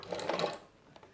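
A sewing machine stitches the binding onto a patchwork quilt, a soft rapid whirring that runs for about half a second and then eases off into quieter handling noise.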